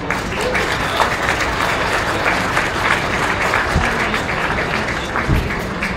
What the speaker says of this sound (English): Let's go ahead and give them a round of applause, please.